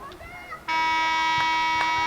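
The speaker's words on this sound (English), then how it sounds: "there's the buzzer for the end of the first period" A loud sustained electronic buzzer sounds at the end of the first period of a high school varsity field hockey game, cutting in abruptly and holding steady after a moment of faint crowd noise.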